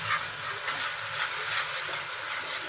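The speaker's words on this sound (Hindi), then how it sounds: "अभी मेरे हस्बैंड देख सकते हैं भून रहे हैं, मसाला भून रहा है।" Masala for a korma-style jackfruit curry fries and is stirred in a pan, a continuous close sizzling hiss with soft rhythmic scraping swells, no talking.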